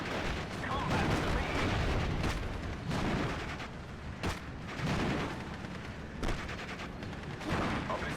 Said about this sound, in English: What about these 25 pounders? I mean, I could probably just fire at the Pack 40 here.